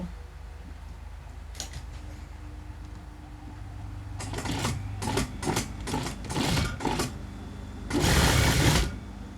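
A sewing machine stitches a stretch fabric waistband on fitness pants, starting with a quiet hum and then running in several short rattling bursts before one longer, louder run at the end.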